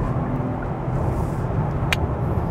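A Kia Cadenza sedan with a V6 engine drives along, a steady low engine hum and road rumble heard from inside the cabin, with one brief high click partway through.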